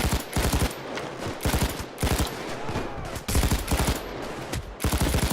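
Rapid bursts of automatic fire from the Brenner light machine gun in Payday 2, loud sustained volleys broken by short pauses, close and dominant throughout.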